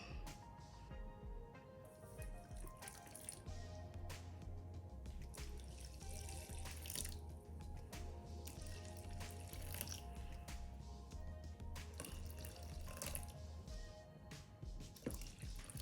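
Warm water is poured in a steady stream into a mixing bowl for gluten-free artisan bread dough, a soft continuous trickle with faint splashing, close and quiet.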